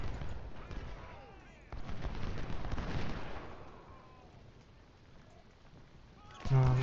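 Artillery fire in the Civil War strategy game Ultimate General: Civil War, distant booming cannon rumbles and crackling reports layered over battlefield ambience, with someone talking over parts of it.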